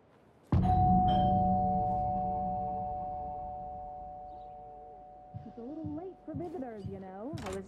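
A doorbell chimes once in the video game Alan Wake 2, a loud bright ding-dong whose tone rings out and slowly decays over several seconds before voices begin talking.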